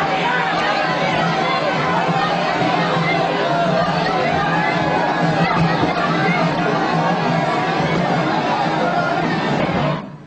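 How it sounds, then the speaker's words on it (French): Crowd lining a presidential motorcade route at a national holiday event in Bizerte, Tunisia, a dense roar of cheering and voices that stays loud and unbroken before cutting off abruptly. "le JT montre en longueur la foule qui l'acclame tout au long du cortège"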